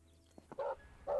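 A dog barks twice in the Animal Shelter Simulator video game, two short, fairly close woofs about half a second apart, preceded by faint small yips.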